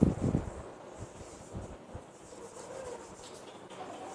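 An old cloth rubs across a switch board, a dry scrubbing that is loudest at the start and then fades into softer, uneven rubbing strokes.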